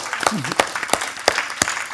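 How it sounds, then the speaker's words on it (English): Scattered applause from a small audience at a talk on social-emotional learning, a handful of distinct claps over a low murmur, with a voice briefly audible. "let's give it a round of applause"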